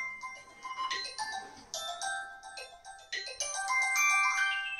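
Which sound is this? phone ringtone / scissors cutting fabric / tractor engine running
phone ringtone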